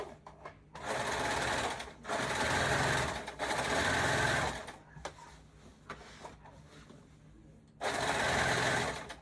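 A serger stitches a skirt seam in three or four rapid whirring bursts separated by short pauses, close and fairly quiet.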